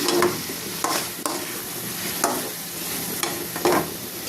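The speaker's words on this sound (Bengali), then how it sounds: "ডাটা কষানো হয়ে গেছে" Vegetable stems sautéing in a pan with potatoes, a soft sizzle broken by four rhythmic scraping stirs of a spatula, close and alone.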